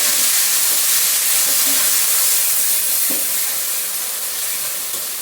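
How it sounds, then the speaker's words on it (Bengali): Onion paste and salt hit hot oil in a pan for a spicy fish head curry, giving a loud, steady frying hiss and sizzle that fades slightly toward the end. "তেলটা গরম হোক, দিয়ে দিচ্ছি নুন, তারপর দিয়ে দেবো পেঁয়াজ বাটাটা।"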